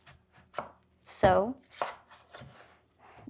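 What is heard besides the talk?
knife chopping potato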